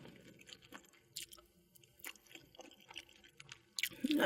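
Crunchy, wet chewing of breaded pork cutlet (tonkatsu) at close range, with irregular bites and squishy mouth sounds during an eating show, a louder crunch at the end.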